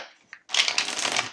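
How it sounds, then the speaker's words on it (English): A deck of tarot cards is shuffled close up in one quick riffling burst, preceded by a faint tap. "I'm just going to reshuffle these cards"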